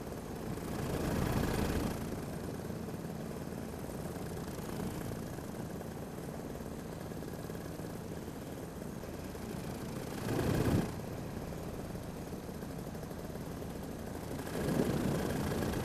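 A paramotor engine idles in flight over Monument Valley, a steady low mechanical drone under constant wind rush, with a few brief louder gusts or surges.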